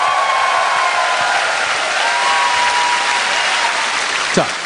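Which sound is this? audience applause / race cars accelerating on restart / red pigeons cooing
audience applause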